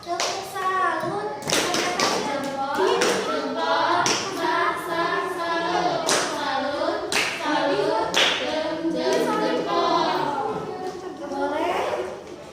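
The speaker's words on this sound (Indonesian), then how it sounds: "Tepuk salut dulu buat kelompok 2." A school class does a rhythmic patterned clap for a student group, sharp synchronized claps in bursts mixed with children chanting along loudly throughout.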